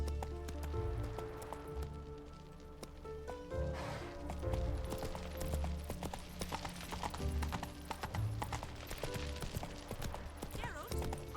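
Geralt's horse Roach in The Witcher 3 produces a steady run of close, rhythmic hoofbeats with a faint rain-like patter beneath, and a voice is heard briefly over them.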